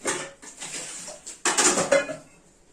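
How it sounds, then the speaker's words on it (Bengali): Dishes, pots and cooking utensils get washed, with clattering metal pots and clinking cutlery in short bursts and a louder clang midway, close by with no talking. "ভাত বসিয়ে বাসন কটা ধুয়ে নেবো"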